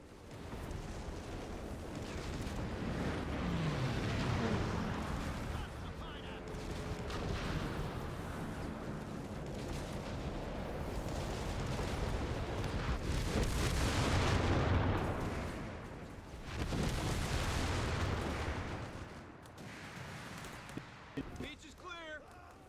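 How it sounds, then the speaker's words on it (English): Artillery bombardment pounds a beach in the Company of Heroes 3 video game: a continuous roar of blasts and rumbling impacts with bursts of gunfire, loud and dense, under shouted voices. "Bombardment incoming! Get your heads down!"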